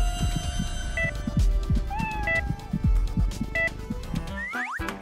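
A small kitten meows repeatedly in short, high mews over a busy background of music and rustling, the cries fairly close and clear.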